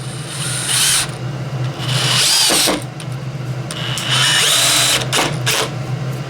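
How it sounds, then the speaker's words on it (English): A DEWALT 12V Xtreme brushless drill drives a 3-inch screw in three loud, steady whirring bursts with brief pauses between, alone and close up. "So let's go ahead and run a 3-inch screw."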